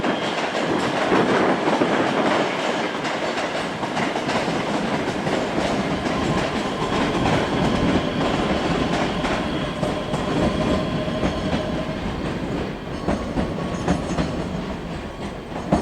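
A ScotRail Class 385 train runs through Edinburgh Waverley station with a loud, continuous rumble and rattling clickety-clack of wheels on rails. Faint squeals come in toward the end, and no one speaks.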